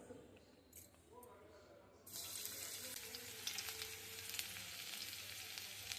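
Chopped garlic drops into hot oil in a kadai for a crispy corn dish, setting off a sudden loud sizzle about two seconds in that keeps crackling steadily after a quieter start with a low voice in the background.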